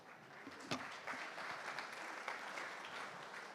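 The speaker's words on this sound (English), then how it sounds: "Give yourselves a big round of applause." Steady, soft applause fills a banquet hall at an anniversary fundraiser dinner, a continuous wash of many hands clapping that sounds somewhat distant and stays even throughout.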